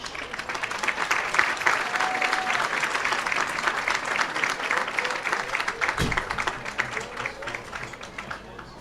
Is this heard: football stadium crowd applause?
yes